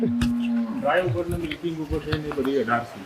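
Cows moo in a dairy shed, with low drawn-out calls close by that overlap with people talking throughout.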